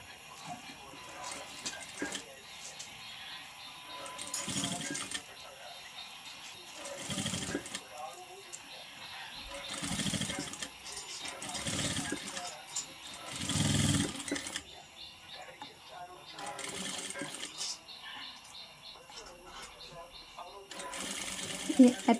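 A sewing machine runs along a folded piece of fabric in several close, rapid rattling bursts, and a person speaks between and over the stitching.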